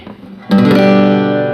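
A single bright strum on an unplugged Ovation CP247 acoustic guitar, chord ringing out and sustaining, close and fairly loud after a brief quiet moment.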